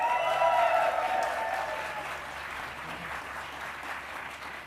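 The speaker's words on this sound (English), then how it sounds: "give it a big release day round of applause" Sustained audience applause at a CreativeMornings New York event: steady clapping that fades slightly toward the end, with a faint murmur of the crowd beneath it.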